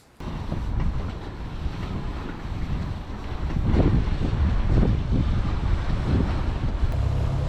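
Wind buffets the microphone as a boat moves across Loch Ness in Scotland, with a steady low engine rumble and waves splashing throughout.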